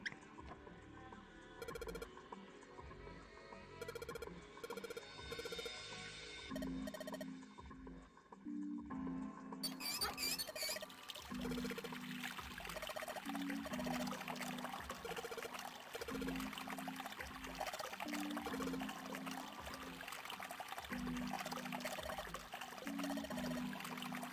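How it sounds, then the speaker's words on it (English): Water pours from a turned-on tap in the Zero Escape game, a soft trickling stream that begins partway through and runs steadily beneath looping background music. "Turn this knob, or attach the knob so we can turn this water on."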